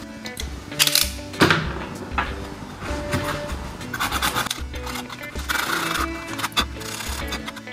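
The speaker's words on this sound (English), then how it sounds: "you might use a sharp knife. Of course you need to be careful when doing this, and just grind off as much material as you can" A sharp knife scrapes and grinds material from cut holes in a DIY bench-top power supply case, producing loud close rasping strokes in uneven bursts with small knocks between them.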